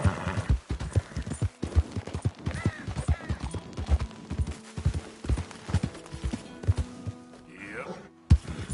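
Hooves of a ridden horse in Red Dead Redemption 2 clip-clop in an uneven series of sharp thuds, close and moderately loud, over low ambient music-like tones and a brief whinny-like sound near the end.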